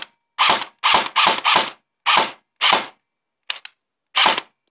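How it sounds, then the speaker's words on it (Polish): An airsoft replica M4 rifle (Cyma CM002A1) fired in close, loud single shots, eight sharp cracks with mechanical clatter, some in quick pairs and others spaced apart, no talking. "strzelimy sobie parę razy"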